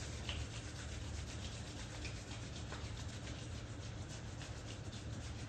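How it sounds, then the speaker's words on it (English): Palms rub together to create warmth, giving a soft, continuous brushing friction close up and at low volume, with no voices. "just rub the palms together, create some warmth"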